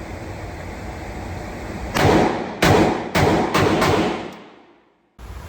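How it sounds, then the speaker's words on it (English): Gunshots from a Micro Draco pistol at an indoor shooting range, about five heavy booming reports in quick succession, loud and close, followed by a sudden drop to silence and one more burst of noise. "So I'm just over here shooting the Drake in lane 2."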